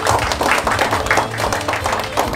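A crowd at a pro sports club award ceremony claps steadily with a loud, rhythmic texture, pulsing bursts of hand claps over a low background hum.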